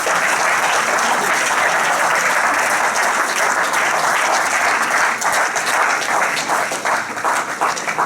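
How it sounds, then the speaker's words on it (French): Loud, dense applause fills a hall on municipal election results night in Avranches, sustained without a break for the whole stretch and rising slightly toward the end. "je crois que vous pouvez vous applaudir"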